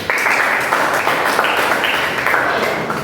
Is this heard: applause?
yes